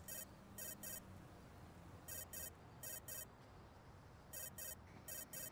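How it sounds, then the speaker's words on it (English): Mobile phone ringing in repeated pairs of short electronic chirps, three double bursts spaced a couple of seconds apart, faint over a hissy background with no talk. "Your phone's ringing."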